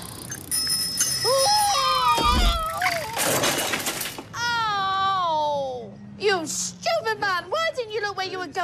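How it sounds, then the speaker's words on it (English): A bicycle bell rings on a busy street, a sharp bright ring standing out briefly amid ongoing voices, footsteps and other bustle close by. "Sorry, I rang my bell."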